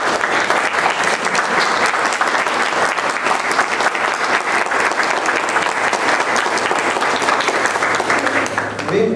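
Strong, sustained audience applause at an art exhibition opening, dense clapping from many people that fills the whole stretch at a steady level without letting up.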